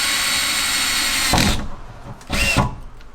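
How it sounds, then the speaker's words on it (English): A power drill with the wrong bit whirs steadily, then pauses briefly before a second, shorter burst of drilling with a rising pitch, close and loud, during a roof fan install on a Fiat Ducato van. "I think I'm using the wrong drill bit"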